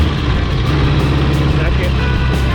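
A vintage motorcycle idles steadily in a workshop, its low, even engine rumble continuing without a break, with a person talking over it.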